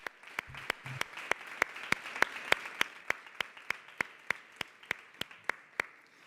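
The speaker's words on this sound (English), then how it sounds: "So a big round of applause for every single person in my" Applause for a team at an event, heard as a single person's steady, evenly spaced claps, crisp and close, about three per second, over a quiet background with no speech.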